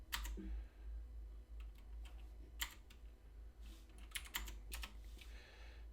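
Keys clatter on a computer keyboard as a short git command is entered, in irregular bursts of close, crisp clicks over a steady low hum, with no speech.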